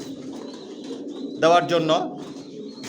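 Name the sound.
pigeons cooing, racing pigeon master pair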